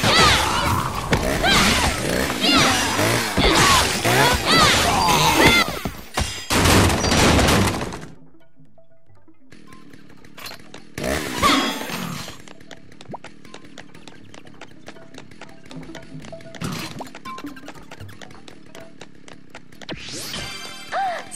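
Chainsaw swings and hits in the hack-and-slash game Lollipop Chainsaw produce dense, loud crashing, smashing and whacking impacts for several seconds, then a pause before scattered thuds and hits over quieter game ambience.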